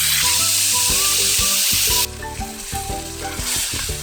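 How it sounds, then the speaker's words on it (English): Fish for Kerala-style meen pollichathu fries in coconut oil in a hot wok (kadai), with a loud, close sizzle and scraping stirs. The sizzle drops suddenly partway through, then builds again. "So when you're frying the fish, see to it that when you slide the fish in to the wok, the kadai is really hot"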